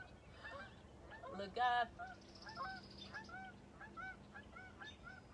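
Several geese honk outdoors, a burst of loud calls followed by a run of repeated moderate honks, with faint talk under them.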